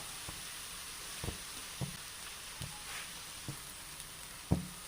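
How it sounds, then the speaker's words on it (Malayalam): A large onion fries in a pan for a pearl spot fish masala, making a faint, steady sizzle broken by a few soft taps of stirring every second or so, with no voices. "ഒരു വലിയ സവോളയാണ് ഇങ്ങോട്ടേക്ക് ഇട്ട് കൊടുക്കാം"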